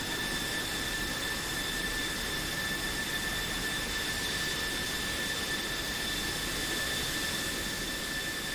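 Steady, unbroken roar of a Spitfire engine in a flight simulation game, a constant broadband drone with faint high whining tones running unchanged throughout, moderately quiet.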